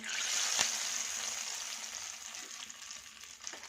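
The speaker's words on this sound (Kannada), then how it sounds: "ನೋಡಿ ಫ್ರೆಂಡ್ಸು ಜಾಸ್ತಿ ಕರಿಬೇವು ಹೋಗ್ತಾಯಿದ್ದೀನಿ ನಾನು ಕರಿಬೇವು ಇದು ಹಾಕಿ ಇದು ಹಾಕಿದ್ದೀನಿ ಈಗ ಒಗ್ಗರಣೆ ಹಾಕ್ಕೊಳ್ಳೋಣ" Curry leaves crackle into hot oil for a tempering in a chickpea masala sambar, a loud hiss that fades gradually into a quieter sizzle, with a couple of sharp pops and no talking.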